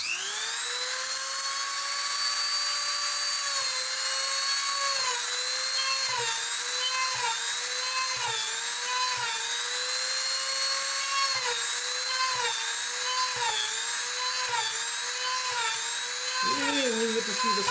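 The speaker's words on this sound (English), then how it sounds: "and I'll just drill through that." An electric drill bores through leather laid on a scrap leather pad, its high steady whine running loud and continuous, dipping slightly in pitch under load throughout.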